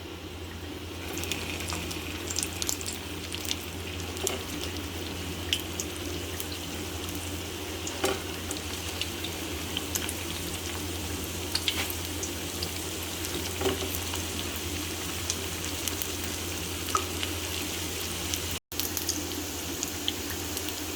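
Potato gola kababs shallow-fry in hot oil in a pan over medium heat, giving a dense, continuous sizzle with small pops and crackles that stays even throughout.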